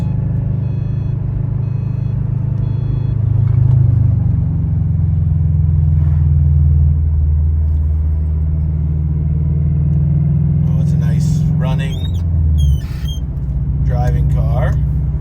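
A Subaru WRX with a swapped EJ20X engine drones steadily as it drives, a low continuous rumble inside the cabin, with brief bursts of people talking near the end.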